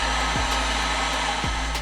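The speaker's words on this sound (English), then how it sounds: "Heat gun." A heat gun blows steadily and loudly up close while loosening heat-sealed sanitation hoses on a boat, with a constant airy roar and two brief dips in its tone.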